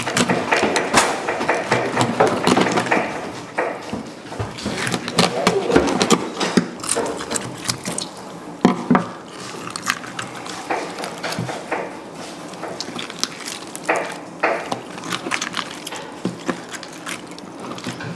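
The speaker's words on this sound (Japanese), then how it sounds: "カツオの頭をさばいていきます。" A knife cuts up the head of a bonito (skipjack tuna), making close, wet, crunchy cuts and scrapes through flesh and bone in an irregular, continuous run of sharp bursts.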